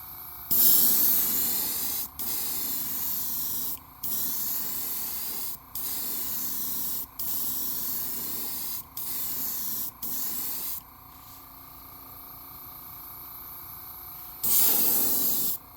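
An airbrush sprays pearlized green clear paint onto a 7-inch soft plastic shad fishing lure, giving steady hissing bursts of a second or two each, about seven in a row separated by short gaps, close and fairly loud, with one more burst at the end and no talk.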